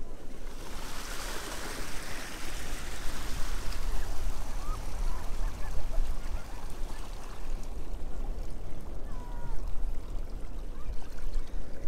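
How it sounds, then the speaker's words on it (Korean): Pacific Ocean waves washing onto Twin Harbor Beach at night, a continuous loud rushing surf that swells and recedes across the whole stretch. "파도. 파도."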